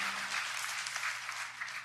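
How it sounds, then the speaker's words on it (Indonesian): Congregation at a Sunday church service breaking into a short, steady burst of applause, heard fairly quietly at a distance with no talking over it. "kasih tepuk tangan semuanya buat Tuhan"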